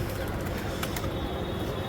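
A freshly released pigeon coos amid a dense wash of crowd noise and nearby voices, the soft calls partly buried under the busy surroundings.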